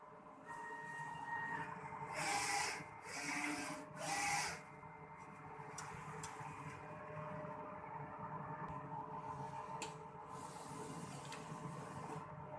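Inkjet printer running a nozzle check print after a head cleaning, with quiet mechanical whirring and three louder bursts of carriage and feed motion early on, then a steady low hum.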